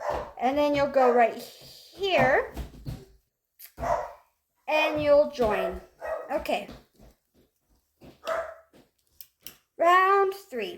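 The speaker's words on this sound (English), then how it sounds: "that's my dog barking" A pet dog barks and yips in a few short bursts at close range inside a home, alternating with someone talking through crochet instructions.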